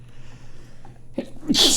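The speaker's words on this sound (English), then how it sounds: "I had to sneeze" One sharp human sneeze bursts out loudly at the end after a quiet stretch of faint room hum and small indoor noises.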